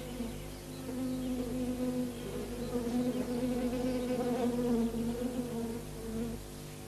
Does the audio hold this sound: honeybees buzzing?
yes